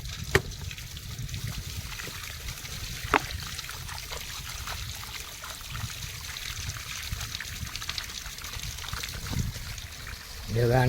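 Water pours steadily into a container as it fills, a constant trickling stream heard up close amid outdoor background noise, with a louder splash near the end.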